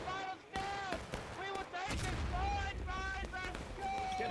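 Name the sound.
musket gunfire from a distance in a video game battle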